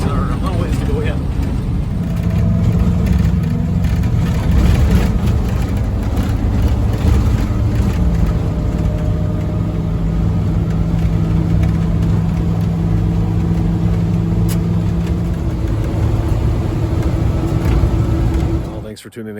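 A truck's engine hums steadily while driving home on a road trip, a low continuous drone with rattling road noise and a slight rise in revs, fairly close and unbroken.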